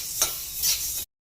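Urad dal with the skin on is dry-roasted in a pan and stirred. Two short scraping sweeps sound close up, then the sound cuts out.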